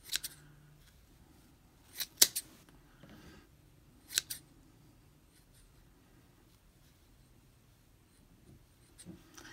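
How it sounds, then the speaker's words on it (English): Scissors snipping through wrapped yarn loops to make a pom-pom, a few sharp, close cuts spaced a couple of seconds apart, with quiet rustling between them. "I'm going to cut where they were on the tops of my fingers"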